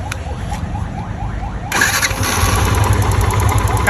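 A Yamaha Fazer V2 motorcycle engine, just back from service with a locally made replacement engine, cranks with a short whirring starter and then catches, settling into a loud, close, steady idle.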